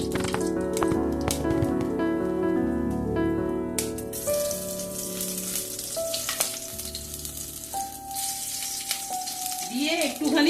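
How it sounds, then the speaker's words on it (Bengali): Whole garam masala spices sizzling in hot oil for home-style chicken biryani: a continuous crackling fry close by, with tuneful music heard over it during the first few seconds. "এই তেলের মধ্যেই আমি প্রথমে একটু গোটা গরম মশলা ফোড়ন দিয়ে দেবো"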